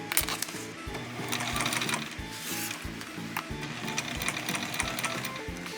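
A sewing machine with a size 16 needle stitching thick costume fabric, a rapid rhythmic mechanical clatter with regular thumping beats and some strain, close and steady, no talking.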